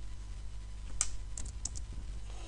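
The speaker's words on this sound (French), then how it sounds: "Alors, je tape localhost" Fingers tap out a short word on a computer keyboard, giving a few quick, light clicks up close in a quiet room, with a brief pause between the keystrokes.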